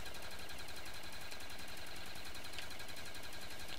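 A gun in a zombies video game fires nonstop, a dense, loud rattle of rapid shots running the whole stretch with no pauses and no voices.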